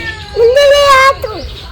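A house cat gives one drawn-out, rising-then-falling meow at close range, with a shorter squeak-like call right after, set against a faint background murmur.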